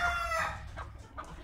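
A hen that had been eating eggs clucks close by, a few short throaty calls with a brief crow-like cry near the start, over low background rumble.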